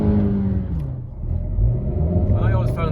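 Honda Vezel (HR-V) 1.5 VTEC with a manual gearbox accelerating, heard from inside the cabin as a steady low engine drone and road rumble rising slightly in pitch, with brief chatter near the end.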